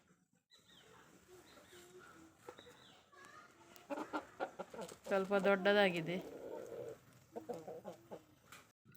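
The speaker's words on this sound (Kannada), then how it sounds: "ಕೋಳಿ ಇಟ್ಕೊಂಡಿದ್ದಾನೆ ಎರಡು" Chickens cluck close by, with a burst of louder clucking in the middle, while a person speaks briefly over them.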